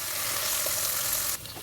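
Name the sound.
onion frying and being stirred in a pan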